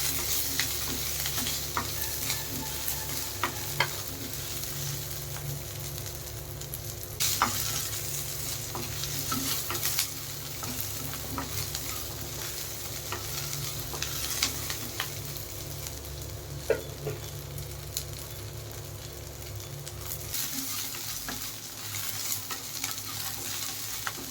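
Garlic cloves and a piece of ginger stirred in a hot oiled pan while frying for a crab curry, a steady sizzle running throughout with frequent scraping stir strokes and a brief lull near the end.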